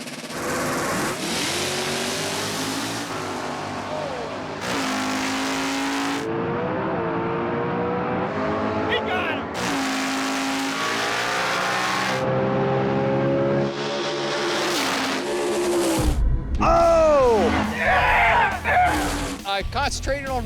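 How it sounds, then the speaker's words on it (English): A 1992 Chevrolet S10 small-tire drag truck with an Andy Jensen engine launches and races down the strip, loud engine roaring through repeated gear changes and revs, with crowd and commentary noise mixed in toward the end. "It's a 92 S10, small tire truck, Andy Jensen motor in it."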